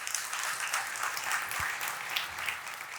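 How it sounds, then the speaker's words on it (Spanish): Church congregation claps during a sermon, a moderately quiet, continuous wash of applause with a soft thump partway through. "Dele un aplauso al Señor."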